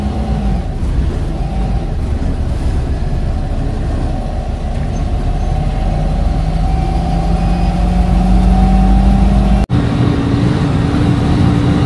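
An MSRTC state transport bus runs along the road near Chinchwad on a Pune to Alibaug trip, its engine droning loud and continuous, with a steady low hum and a pitch that slowly rises as the bus moves.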